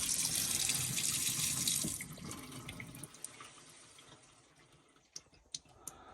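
Water runs into a 100-litre boiler tank in a basement, rushing loudly at first and then fading. Scattered sharp drips and clicks follow in the quieter stretch, near and distinct.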